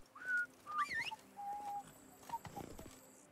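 Geralt whistles for his horse in The Witcher 3, Toussaint: a few short rising and falling whistle notes over faint game ambience, with no talk.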